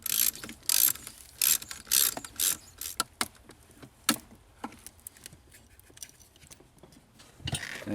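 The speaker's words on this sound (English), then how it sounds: "we'll remove it just because we're here with the wrench" A ratchet wrench clicks in quick rhythmic bursts while backing a bolt off a 2002 Jeep Grand Cherokee during heater core work, close and crisp, then slows into sparse individual clicks and light metal handling.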